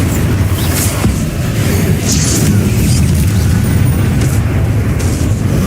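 Bombarda spell explosions in Hogwarts Legacy, a loud continuous rumble of booms and blasts with bursts of crackling debris throughout.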